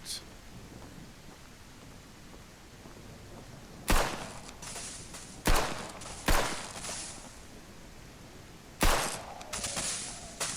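Four sharp gunshots from the survival game Outbreak Island crack over a steady rain-like ambient hiss, spaced irregularly with a brief echo trailing each one.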